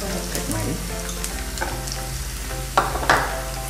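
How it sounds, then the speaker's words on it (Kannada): Tomato and onion frying in a pan give off a steady, close sizzle throughout, with a couple of sharper clinks of stirring toward the end. "ಇದನ್ನು ಸ್ವಲ್ಪ ಫ್ರೈ ಮಾಡಬೇಕು."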